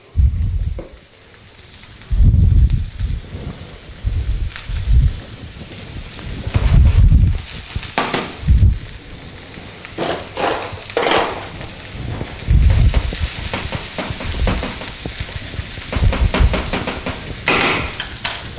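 Red cabbage frying in a pan, loud bursts of sizzling and crackling as it goes in and is stirred, settling into a steady hiss.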